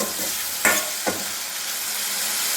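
Tomatoes sautéing in a hot pan for a fish curry, giving a steady soft sizzle with two brief scraping stir strokes close by, no talking.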